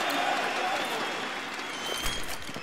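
A crowd at an esports match, FaZe versus C9 one-on-one games, cheering and applauding in a steady wash, with commentators talking over it.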